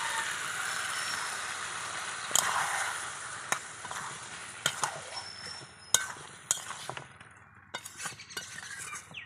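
Chopped tomato and prawns stirred into spiced potato masala in a pan, with a soft frying hiss under repeated sharp clinks and scrapes of a spoon against the pot, alone without talk.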